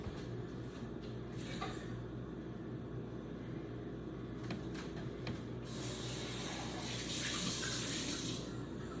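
Liquid poured out of a container to put out a candle flame, a steady close splashing stream running throughout, thickening toward the end.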